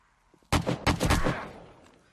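Gunshots in the survival game 7 Days to Die, Alpha 16 with the Darkness Falls mod: two loud, close blasts in quick succession, each trailing off into a short echoing tail.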